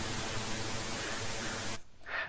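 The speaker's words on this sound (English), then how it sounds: "And also we have pink noise." Synthesized pink noise generated in code, a steady, deeper-toned rushing hiss held at an even level for nearly two seconds before stopping abruptly, followed by a faint bit of room sound.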